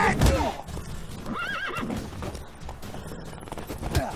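A horse neighs and whinnies several times in The Witcher 3, the wavering cries rising over clip-clopping hooves and busy game ambience, with low voices murmuring underneath.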